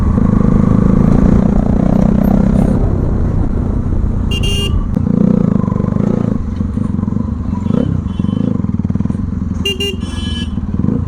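A modified 2013 Bajaj Pulsar NS200 motorcycle roars loudly and continuously while being ridden, its engine close and dominant, with brief higher clattering bursts and traffic noise around it.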